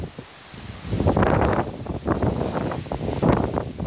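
High winds blow outdoors in Essex, UK, heavy gusts buffeting the microphone in swelling rushes that rise and fall over a few seconds, loud and close with no talking.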